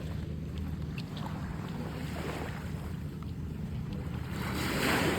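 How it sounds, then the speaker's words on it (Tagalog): Strong Pacific Ocean surf breaking along a beach in Isabela, a steady low roar of waves with wind rumbling across the microphone, swelling louder near the end, no voices. "Ang lakas ng alon."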